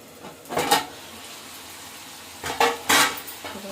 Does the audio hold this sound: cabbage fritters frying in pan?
yes